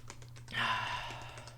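A few soft keyboard clicks, quiet and close, with a faint low hum underneath and no voices.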